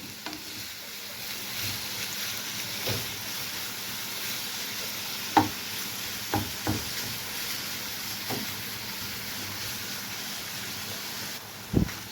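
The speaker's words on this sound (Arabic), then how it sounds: "نبدا نقليو الفيونداشي تاعنا، نقليوه مليح" Minced meat frying in a pan, a steady soft sizzle throughout with occasional clicks and scrapes of stirring, close and alone without any talking.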